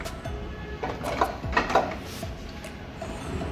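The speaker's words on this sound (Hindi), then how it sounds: "और प्लेटें रख सकते हो, जैसे कि हम इसमें अभी रख के आपको दिखा रहे हैं।" Plates set into the rack of an LG DFB424FP dishwasher, several clattering knocks of dishware against the rack in quick succession, close and moderately loud with no talking.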